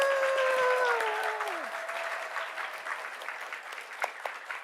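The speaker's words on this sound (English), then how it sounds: "Let's have another round of applause." An audience applauds new nursing students at a university welcoming ceremony, broad sustained clapping in a large hall that slowly thins out, with a whistle-like cheer and voices at the start.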